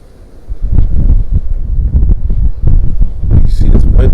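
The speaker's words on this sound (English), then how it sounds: "this wind is picking up" Gusty wind buffets an outdoor microphone, a loud low rumble that swells and drops in bursts over roughly four seconds, with no talking.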